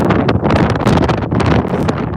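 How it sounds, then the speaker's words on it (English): Strong wind buffeting an outdoor microphone on a stormy dog walk in Edinburgh, a loud continuous roaring rumble that swells and dips without letting up. "I'm sorry about the weather, folks. I can't help the wind"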